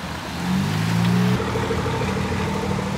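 A BMW E30 car passes by at the frozen Nürburgring, its engine rising to a loud mid-pitched drone and then shifting to a higher, steadier note as it moves past.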